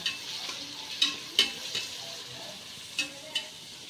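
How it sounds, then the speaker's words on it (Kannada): Onions frying in hot oil in a pan while cooking biryani, a soft steady sizzle broken by a few sharp stirring scrapes and clinks, close and moderately quiet with no talking. "ಈಗ ಸ್ವಲ್ಪ ಉಳ್ಳಾಗಡ್ಡಿ ಫ್ರೈ ಮಾಡ್ಕೊಂಡ್ರಿ ಸ್ವಲ್ಪ ಕೆಂಪಾಗ"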